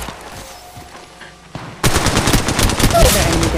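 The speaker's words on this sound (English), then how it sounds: "Firing." Automatic gunfire from an Apex Legends match, with a quiet stretch before a sudden loud burst of rapid shots that runs densely for the second half of the clip.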